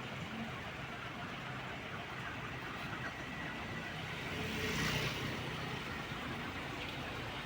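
Road traffic on the highway out of Gumaca, Quezon toward Manila, a steady broadband rumble of vehicles with a brief louder swell as one passes close, no talk.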